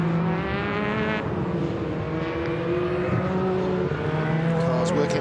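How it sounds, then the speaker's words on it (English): Touring race cars of the 2012 WTCC round at Sonoma, USA, roar past on track in a steady, loud wash of engine drone with shifting revs, continuous throughout under faint commentary. "Cars working their way through"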